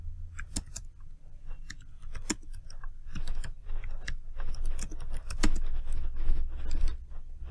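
Quick, irregular clicks of typing on a computer keyboard, close and fairly steady over a low background hum, with no one speaking.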